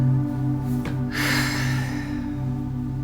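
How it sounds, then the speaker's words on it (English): A slow, deep breath drawn in through the nose during a guided breathwork session, a soft airy rush lasting about a second over a steady low humming drone. "Please take some deep belly breaths. Breathing in through your nose"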